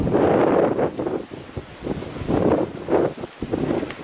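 Gusty wind buffeting the microphone in low rumbling bursts that rise and fall, loud and close, with no talking.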